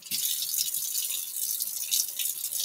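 A faucet runs steadily while hands are rinsed under it, a continuous close hiss of water splashing into a sink with no talking.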